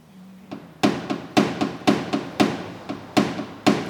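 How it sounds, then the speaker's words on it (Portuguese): A hammer taps a car body panel during paintless dent repair of a small dent, about nine sharp, close metallic knocks in a fairly even rhythm. "então vou usar um martelo"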